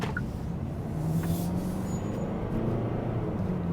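A 2025 Kia K5 GT-Line with the 2.5 engine accelerates at quarter throttle, giving a steady muffled cabin drone with a low engine hum and road noise rising gently.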